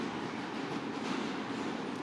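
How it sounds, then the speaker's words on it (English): A subway train runs through an underground tunnel, giving a steady, loud rumble and rattle of rail cars with faint wheel clatter throughout, close by and with no voices. "So right now we're currently in the subway"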